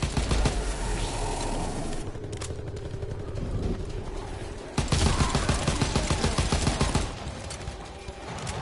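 Grease gun submachine gun fire in a video game, dense crackling bursts filling the stretch with a brief lull before a louder volley near the middle, continuing to the end with faint talk underneath.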